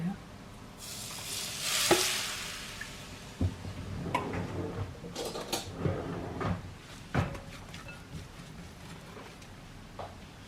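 Hot oil sizzling in a home kitchen pan, a steady frying hiss joined by a sharp burst of spattering and scattered knocks and clatters of cookware, with no talking.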